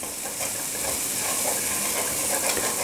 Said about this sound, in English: Now with the garlic, it's been crushed, so really you only want to cook this for about 30 seconds or so.